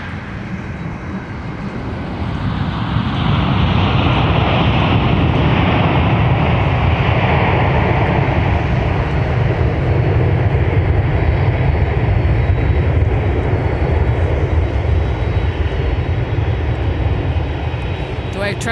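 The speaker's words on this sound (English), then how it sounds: "And here comes Delta 165 from Amsterdam. Former Northwest A330 300." A former Northwest Delta A330-300 arriving from Amsterdam at MSP airport roars past with a broad, sustained jet rumble that swells after the first couple of seconds and stays loud and steady before easing slightly.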